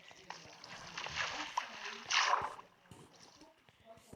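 Splashing and sloshing water in a cave in Minecraft, swelling in two brief surges, with faint voices in the background.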